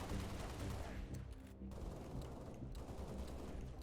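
In a video game, dense bursts of rapid gunfire and blasts rattle on without pause. A grenade explosion may be among them, and faint voices sit beneath the shooting.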